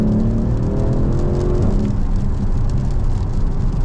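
A 500 bhp Mercedes-AMG GLC 63 S drives on wet roads in the rain, its engine a loud, steady low roar with tyre and rain hiss over it throughout.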